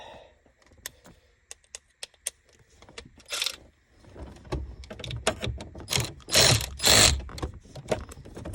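Ratchet wrench tightening a part on a Ford Mustang GT Fox Body engine, with sparse clicks at first, then several quick bursts of rapid ratcheting, close and fairly loud.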